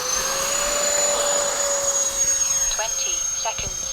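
An FMS A-10 Thunderbolt V2 radio-control jet takes off with a loud, continuous ducted-fan whine that holds a high, steady tone. A faint voice may be underneath.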